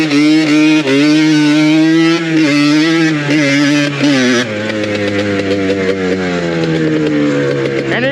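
A Yamaha Blaster ATV engine runs loud and close while riding on dirt, a steady buzzing drone that rises and falls with throttle, dropping to a lower, rougher tone partway through.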